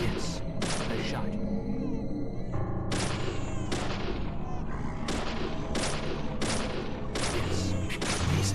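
Gunshots in the video game Deadly Premonition, loud, sharp reports fired at irregular intervals, roughly eight over several seconds, each a broad crack with a short tail, over a steady background of game music.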